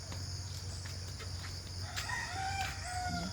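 A household's pet roosters and hens crow in a long wavering call near the end, following soft clucking over a steady low background hum, with no voices.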